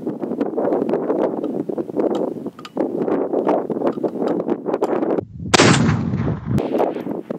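A single loud SKS rifle shot firing Yugoslav surplus ammunition outdoors at long range, a sharp crack near the end followed by a short rolling echo, preceded by steady gusty wind buffeting the microphone.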